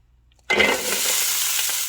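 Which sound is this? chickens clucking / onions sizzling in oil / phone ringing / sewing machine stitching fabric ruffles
onions sizzling in oil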